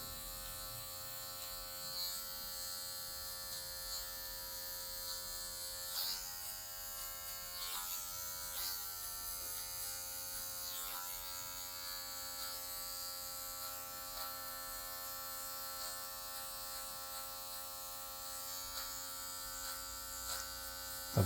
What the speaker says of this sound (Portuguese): só para tirar as partezinhas mais escuras, só a pontinha da máquina.